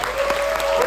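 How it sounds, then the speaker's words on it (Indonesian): Audience applause at a student theatre performance showcase, a steady wash of clapping from a crowd for a performer, continuous and fairly loud through the short moment, with a sustained tone running underneath. "Tepuk tangan untuk Kak Macan"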